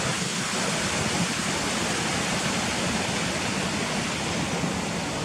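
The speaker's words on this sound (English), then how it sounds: "there's another river coming down the other side" Hillside river tumbling down near old mining ruins gives a steady, loud, broadband rushing roar that stays even throughout, with no voices over it.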